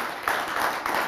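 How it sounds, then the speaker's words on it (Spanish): A studio audience gives Juan a round of applause on the Argentine talk show Animales sueltos, a brief, dense burst of clapping that holds steady for a moment. "le damos un aplauso a Juan"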